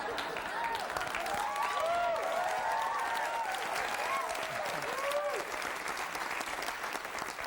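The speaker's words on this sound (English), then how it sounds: "Not sure what that applause means" A studio audience at a 1997 sketch comedy show applauds steadily throughout, dense and loud, with scattered cheers and whoops mixed into the clapping.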